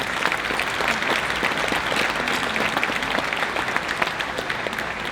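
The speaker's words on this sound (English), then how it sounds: "can we give him one more round of applause" Delegates and activists applauding at the Indiana Republican Party state convention in Fort Wayne, a full crowd clapping in a sustained, dense roar of hands, fairly close and even with a few sharper individual claps standing out.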